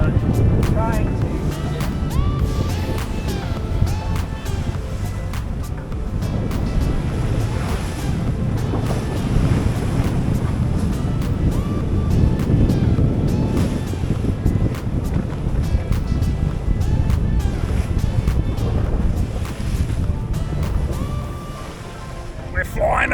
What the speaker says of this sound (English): Watch the gusts of wind.